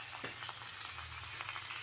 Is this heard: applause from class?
no